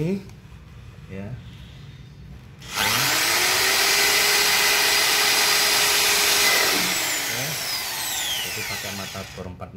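A power drill with a 4 mm bit whirs loudly and steadily for several seconds, close by, drilling a 2012 Toyota Rush spare wheel cover, after a brief moment of talking; it eases slightly near the end.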